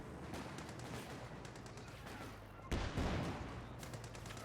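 Machine gun fire in a war video game, including a tank's coaxial gun, heard as faint, distant rattling bursts with one louder burst near the middle.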